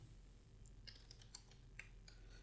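Soft taps on a computer keyboard come in a quick irregular run of faint clicks over a low steady hum, with no one speaking.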